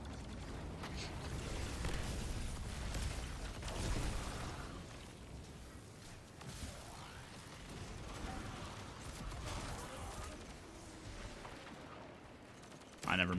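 Rocket pulse rifle fire in a video game, dense rapid bursts of shots and blasts running nearly continuously with a louder burst at the end, mixed under a speaking voice.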